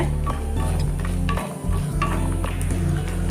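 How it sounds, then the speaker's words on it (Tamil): Garlic being sautéed in oil as the base for a village-style Madurai sardine fish curry, heard as a steady close sizzle with occasional stirring clinks over a low background hum. "இந்த பூண்டை வந்து நல்லா எண்ணெயிலே ஒரு நிமிஷம் மட்டும் நல்லா வதக்கிக்கோங்க."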